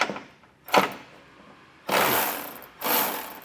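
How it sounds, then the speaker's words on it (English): A ratchet with an 18mm socket works bumper nuts loose on a 2024 Ram 1500 in three separate bursts of rapid clicking, up close and with no talk. "you can use an 18mm socket to remove them"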